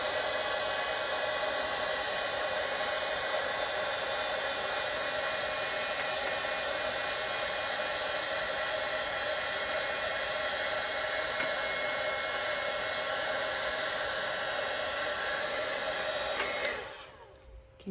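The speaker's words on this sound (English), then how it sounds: "Try not to bring your heat gun too close to the vellum because you can scorch it" A heat gun melting embossing powder on vellum blows with a steady, even hiss and whir at close range, running unbroken for most of the time and then cutting off at the end.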